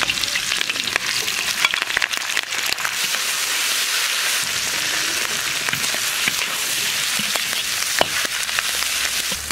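Pieces of meat from a 40-jin pig head deep-fry in hot oil, a loud, dense, crackling sizzle that continues without pause, with scattered sharper pops.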